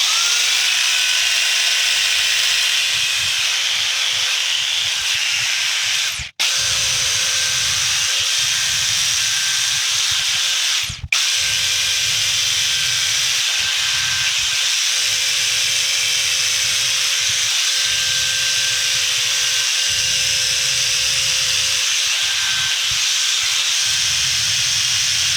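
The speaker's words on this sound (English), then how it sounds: "I'm just going to steam this as well, just to try and get it back to being a better shape" A steamer hisses steadily and loudly over a light aircraft seat cover, a continuous close jet of steam with a faint whine, cut off twice by brief pauses.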